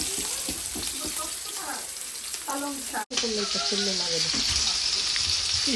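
Beans and potatoes frying in a pan, a steady sizzle running throughout with brief stirring scrapes, while a voice talks over it and the sound cuts out for an instant midway.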